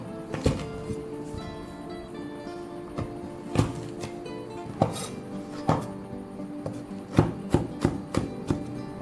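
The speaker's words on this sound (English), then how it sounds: "Four cloves of garlic that I'm first bruising and then chopping up." A knife chops garlic cloves on a board for a tofu and long bean stir fry, striking in irregular sharp taps close by, with a few louder knocks and no talk.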